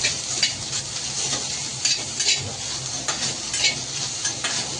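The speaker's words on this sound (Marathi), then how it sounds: "आता भेंडी चांगली परतून घ्यायची" Okra (bhindi) being stir-fried with salt in a pan, giving a steady close sizzle broken by repeated scraping strokes of the stirring spoon.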